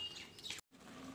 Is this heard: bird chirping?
yes